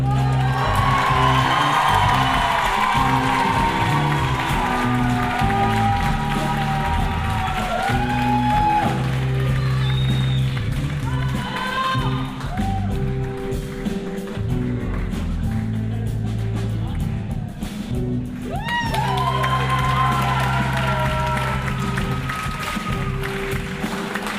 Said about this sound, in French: Je vous demande un tonnerre d'applaudissements pour les chanteurs